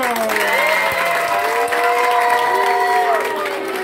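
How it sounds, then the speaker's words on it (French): Loud applause and cheering from a school audience at a class debate on gender parity, dense and steady throughout, with whistles and shouts rising above the clapping. "Sous vos acclamations, bien sûr."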